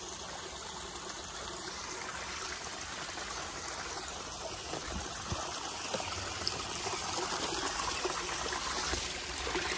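Stream water rushes near Gujarwadi waterfall by Katraj, a close, continuous babbling flow that stays loud and steady throughout with no talking.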